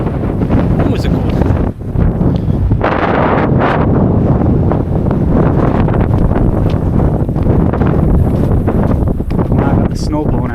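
Strong wind blowing snow on Pier 8 in Hamilton, Ontario, buffets the microphone with a loud, continuous roar, and a voice is heard briefly through it.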